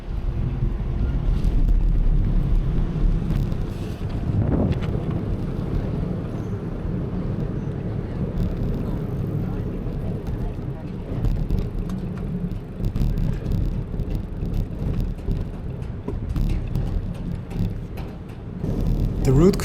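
Traffic drones and swells around a cyclist crossing a 12-lane road in Vienna, with passing cars, steady wind buffeting the microphone and no talk.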